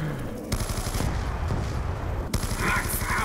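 Rapid bursts of gunfire from Black Ops 2 Zombies in the Town map, loud and dense, with sharp shots repeating over a steady game background.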